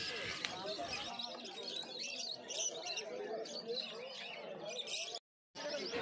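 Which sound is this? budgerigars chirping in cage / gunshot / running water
budgerigars chirping in cage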